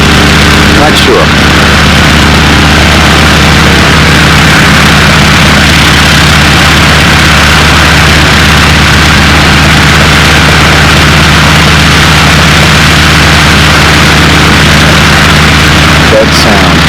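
Small radio-controlled model aircraft engine with a tuned pipe, running at an airfield: a steady, loud, continuous droning hum with strong low harmonics, holding a constant pitch throughout with brief bumps near the start and end.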